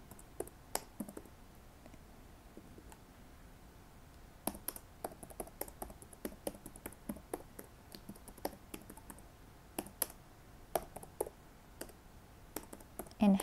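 Quick, irregular clatter of fingers typing on a computer keyboard, with clicks in uneven bursts and short pauses, close and fairly quiet, with no voices.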